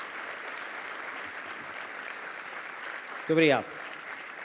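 An audience at the opening ceremony of a dentists' congress applauds steadily for several seconds, and someone briefly speaks over the clapping near the end.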